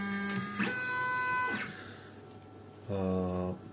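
A Happy Voyager HCS cutting machine drives its head across the gantry, giving a smooth whining motor tone that rises and falls in one long move, then a shorter second move after a pause, close and steady.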